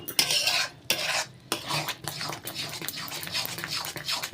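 Mango kasundi mixed with oil is stirred in a pan, a spoon scraping and clinking against the metal in uneven close strokes.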